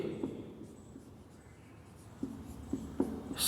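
Chalk tapping and scraping on a blackboard during a class 10 maths lesson on polynomials, a handful of quick strokes clustered toward the end, close and fairly quiet with no talk.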